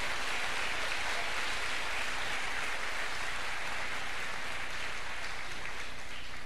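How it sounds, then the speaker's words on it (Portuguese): A church congregation applauds to praise the Lord during a worship program, a dense, steady wash of clapping that holds at an even level throughout with no voices standing out. "vamos aplaudir o Senhor"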